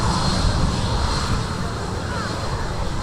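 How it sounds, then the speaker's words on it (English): A Ryanair Boeing 737-800 jet at Manchester airport gives off a loud, continuous engine roar that stays steady across the short stretch. "this is another Ryanair 737-800, and this particular aircraft is making the return journey, having arrived earlier from Dublin"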